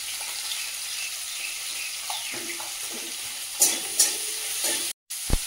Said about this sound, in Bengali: চিংড়ি মাছটা হালকা ভেজে নিয়েছি।